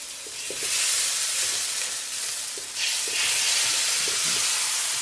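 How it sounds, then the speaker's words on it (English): Sauce poured into a hot wok of stir-fried chicken with broccoli sets off a loud, steady broadband sizzle and steam hiss that swells as the liquid hits the metal, with faint spatula taps underneath. "Go ahead and put our sauce in"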